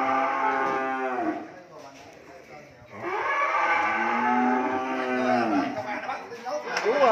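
Cattle at the Tư Chiến cattle farm in Mỏ Cày Bắc moo loudly and close by, with two long drawn-out calls separated by a brief dip, and a voice or two faintly mixed in.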